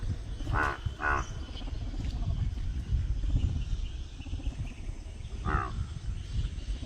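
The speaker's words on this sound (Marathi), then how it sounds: "पिवळ्या बेडूक हे यांचा कर्कश डराव डराव आवाज" Yellow frogs croak in a rain-flooded field at Kamshet in Maval, Pune: two loud rasping calls close together, then a single call after a pause, over a steady outdoor hiss.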